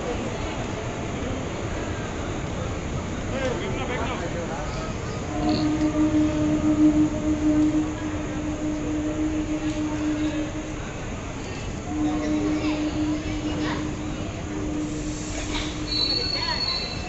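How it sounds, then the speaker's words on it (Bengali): Jamalpur Express passenger train hauled by a WP4 locomotive, heard from on board as a constant loud rumble of rolling wagons, with high wheel squeals rising and fading repeatedly and no clear speech. "আমাদের special Jamalpur express with WP4"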